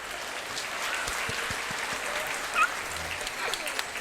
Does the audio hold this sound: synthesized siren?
no